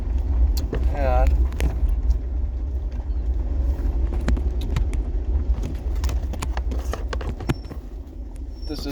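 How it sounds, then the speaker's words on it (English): A car on the drive home from work, a steady low road and engine rumble running throughout, with a voice talking over it. "this is the ride home from work"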